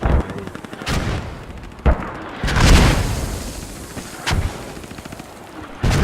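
Explosions and gunfire in a video game battle, with several sharp booming blasts spaced irregularly over a continuous rattle of distant shooting, loud and without talk.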